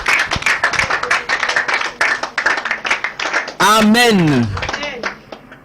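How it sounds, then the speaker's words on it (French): A church congregation claps for the Lord in fast, sharp bursts of rhythmic hand claps, followed by a loud voice that breaks in with a drawn-out shout over the clapping. "Si tu as été béni, applaudis pour le Seigneur."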